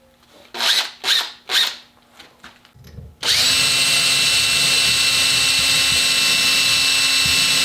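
A few short revving pulses, then a power drill with a 59-thousandths bit runs steadily at high speed for several seconds drilling into a knob, loud and close.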